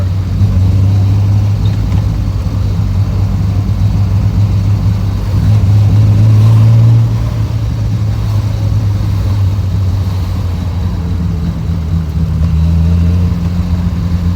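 A carbureted Triumph TR6 engine idling with a steady, low burble, loud and close, swelling briefly midway and again near the end, with no talk over it.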